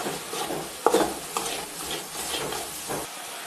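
Mussel thoran with turmeric and salt being stirred in a pan, a soft continuous scraping and gentle sizzle with a couple of sharper utensil knocks near the start.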